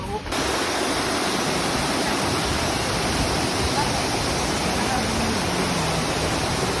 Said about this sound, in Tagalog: Ito ang falls.